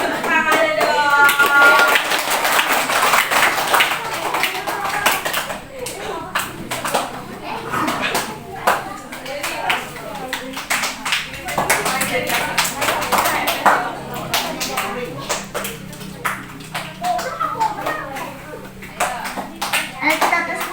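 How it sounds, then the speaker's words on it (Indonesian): Children at an Indonesian school clap their hands, brisk irregular clapping mixed with kids' chatter and an adult voice, starting as a loud burst and thinning into scattered claps. "Ya, semangat untuk tepuk tangannya dong."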